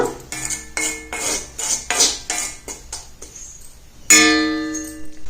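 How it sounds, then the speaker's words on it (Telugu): A spoon stirs henna powder mixture in a bowl, with repeated scraping and clinking strokes at a steady rhythm and one loud ringing metallic clang near the end. "మనం పొడి అంతా మనం బాగా కలుపుకుంటా ఉండమ్మ బాగా కలుపుకుంటాము"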